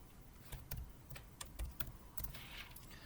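Fingers typing C# code on a computer keyboard, quick irregular clusters of crisp key clicks close to the microphone, fairly quiet with no voices.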